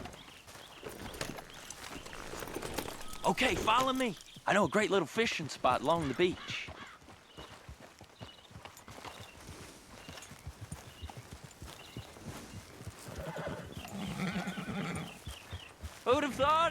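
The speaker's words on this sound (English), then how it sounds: "Grab your horse and let's go." Horse hooves clip-clopping and a horse whinnying in Red Dead Redemption 2, with steady hoofbeats through most of the stretch and neighs rising above them, while someone talks over the ride.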